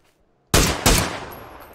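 Two loud, close gunshots crack in quick succession in a shooter video game, the second following about a third of a second after the first, with a ringing tail fading afterward.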